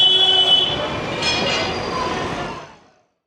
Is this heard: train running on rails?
yes